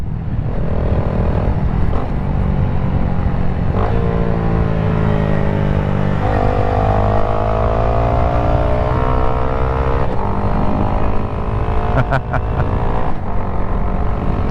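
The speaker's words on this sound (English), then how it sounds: "it still sounds kind of like a little dirt bike, I guess." A Honda Grom motorcycle with a full exhaust idles and revs up repeatedly in a buzzy, dirt-bike-like drone, loud and close, with pitch rising and falling through several throttle blips.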